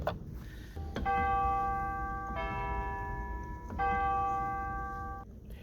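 Pipe organ chime stops ring out in a series of sustained, bell-like tones, two or three clear strikes that each hold and decay over a low, steady background hum, with no talking.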